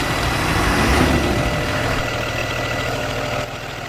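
A 2022 Thomas C2 school bus idles in the Rigs of Rods driving game, its engine giving a steady, loud, rumbling drone that holds constant throughout with no talk over it.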